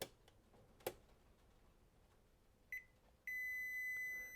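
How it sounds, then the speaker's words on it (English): A Nissan Leaf instrument cluster powered up on a test bench gives a brief electronic beep, then a sustained steady alarm tone that holds loud and even to the end, with no talking. "Put it into sleep mode to get rid of that annoying alarm."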